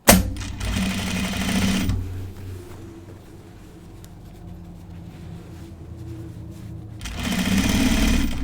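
A sewing machine top stitches a flat felt seam on men's Jutland pants, running loud and steady in two bursts at the start and end with a quieter lull of handling between.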